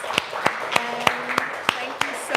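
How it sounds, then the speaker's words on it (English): Applause at a museum history talk, heard as sharp, evenly spaced claps about three per second, close and distinct rather than a dense crowd roar. "round of applause."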